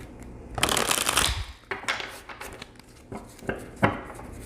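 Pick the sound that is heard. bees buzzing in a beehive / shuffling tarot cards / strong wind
shuffling tarot cards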